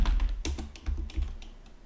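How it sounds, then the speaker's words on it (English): Computer keyboard typing a command to restart an Apache 2 web server, a short burst of close, crisp key taps in an irregular rhythm, heard alone with no talking. "So you would type sudo systemctl restart Apache 2."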